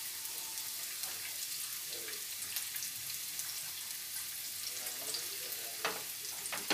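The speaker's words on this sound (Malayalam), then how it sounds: "ആദ്യം ഒരു ചീനച്ചട്ടി അടുപ്പത്ത് വെച്ചിട്ട് നമ്മൾ അതിലേക്ക് ഈ സവാള വഴറ്റാനിടുകയാണ്. സവാളയോടൊപ്പം തന്നെ വെളുത്തുള്ളിയും കൂടി ഇടാം." Sliced onion and garlic sauté in a frying pan on the stove, giving a faint, steady sizzle with scattered small crackles and no voices.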